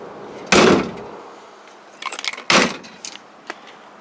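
A 1960 Falcon's car door slams shut twice, about two seconds apart, each a close, loud thud followed by light metallic rattles.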